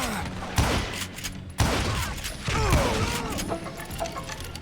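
Gunshots from Call of Juarez: Gunslinger, a Wild West shooter: a few sharp, loud reports at irregular intervals over a busy game backdrop, with no talk.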